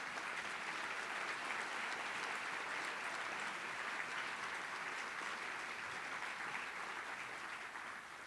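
Steady, sustained applause from a breakfast-meeting audience honoring past Chamber Board members at an annual awards event, a dense even patter of many hands holding at constant level throughout with no speech over it.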